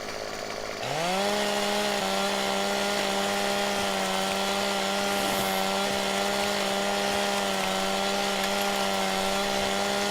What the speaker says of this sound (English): Run faster without that chainsaw going on.